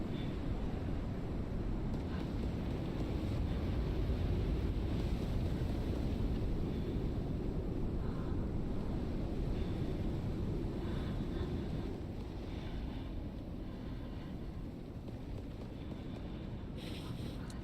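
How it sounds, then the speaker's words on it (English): A steady droning hum from a flying drone in the Icarus survival video game, continuous and fairly loud with a windy, engine-like rumble that holds throughout without a break. "No, it's a drone. I can still hear it."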